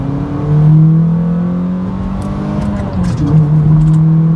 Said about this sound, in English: it sounds so good with that intake, the eBay intake